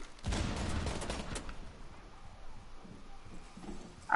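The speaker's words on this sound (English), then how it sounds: "Whoa, I got shot at." Gunfire in the Rainbow Six Siege video game comes as a quick burst of rapid shots near the start, moderately loud, then fades to quieter scattered noise.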